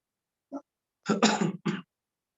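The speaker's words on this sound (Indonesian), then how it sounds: "mohon maaf nih masih batuk-batuk" A short cough followed by a burst of several throat-clearing coughs, close and fairly loud, with no talking.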